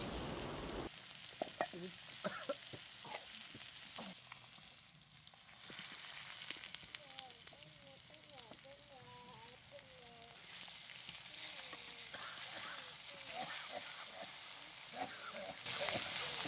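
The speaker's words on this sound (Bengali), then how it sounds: "মাছ ভাজা প্রায় শেষের পথে, একটু পরে এই মাছগুলো তুলে নেওয়া হবে।" Fish frying in a pan for a thin curry gives a loud, steady sizzle and crackle that runs throughout, with faint chirping in the background.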